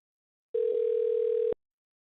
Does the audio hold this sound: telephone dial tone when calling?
yes